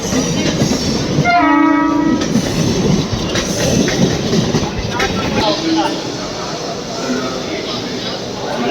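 A train horn blares loudly for about a second amid the rumble and clatter of a passing Mumbai–Jaipur superfast express train at Mumbai Central, with voices and station noise around it.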